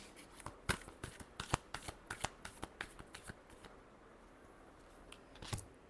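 Cards being shuffled in a series of crisp, quick riffling bursts close by, fading to quiet before a final short flurry.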